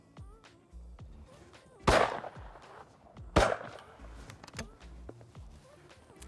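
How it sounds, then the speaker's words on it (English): A Beretta Ultraleggero shotgun, a 6-pound gun loaded with 28 gram cartridges, fires two sharp, loud shots about a second and a half apart outdoors, each blast trailing off briefly. "a gun that's 6 pound, it shoots very nicely with 28 gram cartridges, very little recoil"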